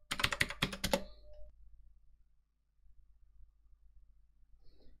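A rapid burst of close, crisp keyboard typing as a command is entered at a computer, lasting about a second before fading into near silence, with a few faint clicks later.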